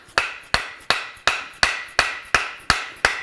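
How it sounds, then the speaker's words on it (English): A soft mallet drives a wooden handle into a tomahawk head with about nine evenly spaced, sharp knocks, each one clear, close and alone. "tap the wood handle onto the head"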